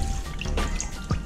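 Water sprays and drips off a Ferrox air filter from a Yamaha N-Max as it is rinsed with plain water, a close, steady wet hiss with scattered drips throughout, no voices.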